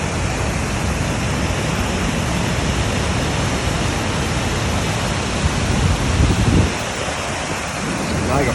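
Waterfall at the Loup of Fintry in full flow, a loud, steady broadband roar of rushing water that fills the whole clip, swelling briefly near the end, with no talk over it.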